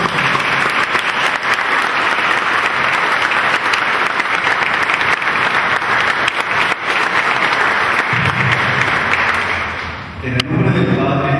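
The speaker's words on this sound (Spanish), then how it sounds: "Con este gran aplauso damos la bienvenida a todos ustedes." Sustained loud applause from a church congregation greeting everyone, steady throughout, then tapering near the end as a voice begins speaking.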